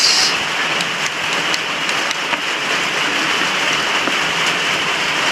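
Rain pours down over a cemetery in a dense, steady hiss with scattered drop ticks, loud and close, with no voices.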